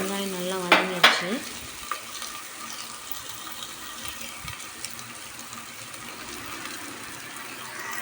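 Onions frying in a pan for a country chicken curry crackle steadily after a couple of sharp clinks of a utensil, with a faint running-water sound in the background.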